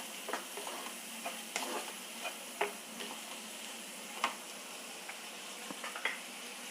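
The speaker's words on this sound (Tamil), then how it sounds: "நல்லா 2 நிமிஷம் இந்த நெய்லேயே வதக்கியாச்சு" Peas sautéing in ghee over a slow flame, a soft continuous sizzle broken by light scraping stirs and small ticks from a spoon on the pan, quiet and close.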